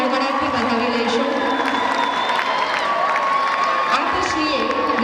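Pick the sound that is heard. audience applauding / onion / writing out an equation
audience applauding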